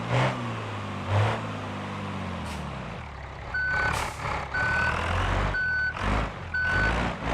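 A truck in the BeamNG.drive game sounds its backup beeper, four evenly spaced electronic beeps over a rumbling engine and heavy mechanical noise.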